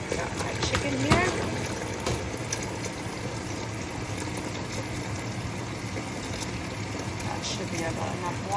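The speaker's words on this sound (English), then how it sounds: "I'm just gonna add water to this pot." Water pours steadily into a cooking pot on a home stove for chicken rice, a continuous rushing splash heard close, with someone talking over it.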